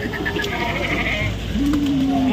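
Kathiawadi goats from Bhavnagar bleat at a livestock market, a loud drawn-out cry standing out over murmuring crowd voices and background noise.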